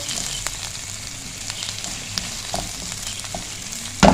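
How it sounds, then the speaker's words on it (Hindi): Spiced mixture with a pinch of turmeric fries in a pan for an egg and yogurt breakfast dish, a steady close sizzle broken by soft scrapes of stirring and a louder clatter at the end. "अब इन सारी चीज़ों को हमने कर देना है मिक्स अच्छे से"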